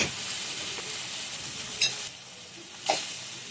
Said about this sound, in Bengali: ভালো করে মিক্সড করে নিচ্ছি আমি। ভালো করে কষিয়ে নিচ্ছি।